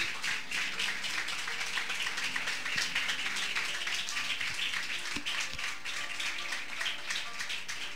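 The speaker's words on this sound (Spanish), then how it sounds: "Denle una ofrenda de aplauso al Señor" Sustained applause from a church congregation offering praise, steady dense clapping filling the room for the whole stretch with no voices over it.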